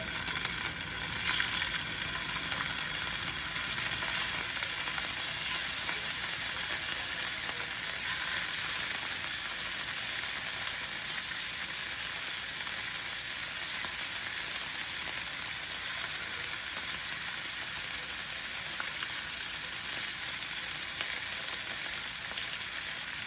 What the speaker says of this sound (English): You want to hear the sizzle when you put it in